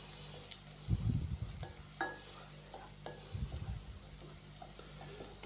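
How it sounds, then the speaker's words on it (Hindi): Garlic paste frying in a pan, with two bursts of close stirring and scraping over a low, steady sizzle and occasional light clicks of the utensil. "लहसुन के पेस्ट को भी हम 1 मिनट के लिए फ्राई कर लेंगे"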